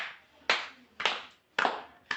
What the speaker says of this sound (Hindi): इस बच्चे के आलोक के लिए ताली बजा दो